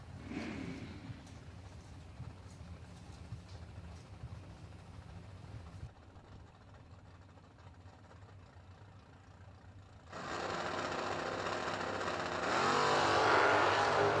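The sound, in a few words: 1969 and 1968 Camaro drag racing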